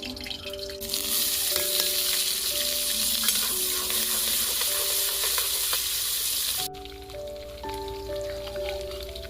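Tadka spices crackling in hot oil in a kadhai on a stove, a loud, steady sizzle with a constant tonal hum beneath that drops abruptly in level partway through and continues more softly.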